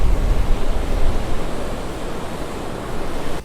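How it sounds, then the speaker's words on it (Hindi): Strong sea waves crashing at Juhu Beach, Mumbai, in windy, rainy weather: a loud, continuous roar of surf with heavy low rumbling, buffeting wind noise on the microphone, surging near the start and easing slightly later. "इतना तेज़ लहर मैंने कभी देखा नहीं था"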